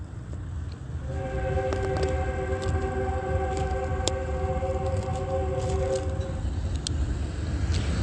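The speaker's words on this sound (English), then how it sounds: "That is now Metrolink that is heard. That ongoing incessant sound of a train is audible activity." A Metrolink commuter train passes westbound, a continuous low rumble of rolling cars with a sustained multi-tone horn sounding for several seconds in the middle, moderately distant and steady throughout.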